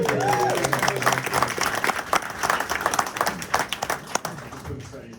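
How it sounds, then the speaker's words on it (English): Applause fills a post-fight press conference for mixed martial arts champions, a full burst of crowd clapping mixed with a few shouts and voices, fading out toward the end. "Round of applause."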